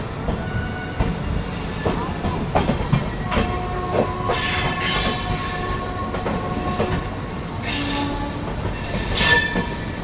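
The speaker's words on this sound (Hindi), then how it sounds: "चलो फाइनली अभी निकल रहे हैं हम लोग हजरत निजामुद्दीन रेलवे स्टेशन से" A WAP 7 electric locomotive hauls a festival special train out of Hazrat Nizamuddin station, with steady rolling rumble, wheel squeal and clanking rail joints throughout, close and fairly loud, without talk.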